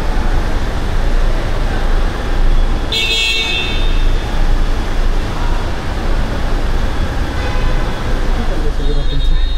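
Late-night city traffic in Ahmedabad, around 2 a.m. on a Friday night, rumbles steadily, with one sharp car horn honk standing out partway through above the continuous road noise.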